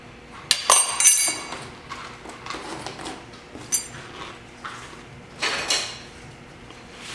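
Whole cumin and smoked paprika are tossed in a pot, giving several sharp metallic clinks and scrapes at irregular intervals, fairly close, with softer shuffling between them.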